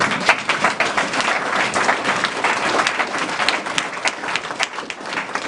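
A church congregation breaks into sustained applause during preaching, a thick, even roar of many clapping hands filling the room from start to finish, with a few sharper individual claps standing out.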